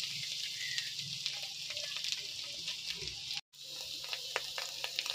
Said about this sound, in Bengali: এবার আমি পেঁয়াজটা ভালো করে কষে নেব।